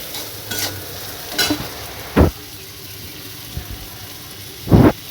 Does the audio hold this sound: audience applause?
no